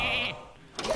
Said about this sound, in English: Oh, of course he runs the sheep into it.